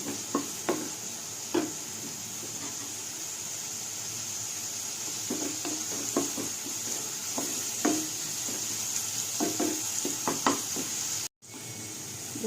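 Onions and curry leaves frying in a pan for a Chikkudikaya tomato curry, a steady sizzle broken by repeated scraping stirs of the spoon, with a momentary cut-out near the end.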